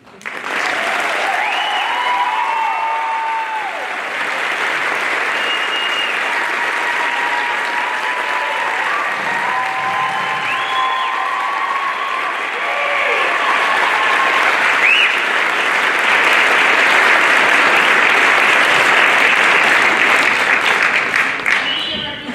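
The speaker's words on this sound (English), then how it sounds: "And one more round of applause for Mr." An audience at a winter band concert applauds loudly and steadily for over twenty seconds, a dense wash of clapping that swells a little toward the end, with a few voices calling out in the crowd.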